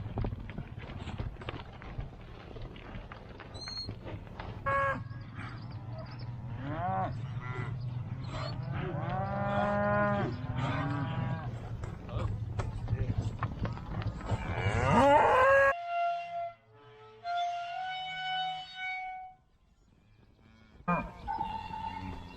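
Cattle on a farm, being moved around, let out several long, loud moos close by, some overlapping, over a bed of rustling and hoof-like clopping.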